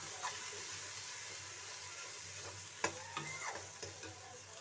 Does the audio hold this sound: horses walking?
no